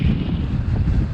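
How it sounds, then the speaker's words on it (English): Strong gusts roar across an open beach beside a pier, buffeting the microphone with a constant low rumble for a brief moment, loud and alone with no voices. "The weather was getting really windy out there."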